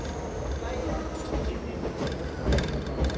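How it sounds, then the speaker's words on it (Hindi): A DEMU train pulling into Sultanpur Lodhi station in Punjab, heard from on board: a continuous rumble of running gear with rhythmic wheel clicks over rail joints, steady and moderately loud. "दोस्तों अभी हम पहुंचने लगे हैं सुल्तानपुर लोधी में, और यहाँ पे देख सकते हैं अपनी ट्रेन का अराइवल।"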